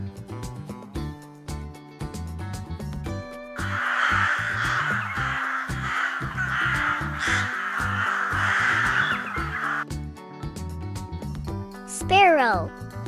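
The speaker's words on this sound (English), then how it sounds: "Crow." A crow caws repeatedly in a run of harsh, rasping calls, loud and close, set between stretches of light background music, with a brief rising tone near the end.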